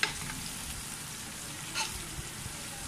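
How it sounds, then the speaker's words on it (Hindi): Mutton frying in a pan for a Punjabi mutton masala gives a steady, close sizzle with faint crackles and one small stir partway through, with no talk over it. "कितना फ्राई करेंगे इसको?"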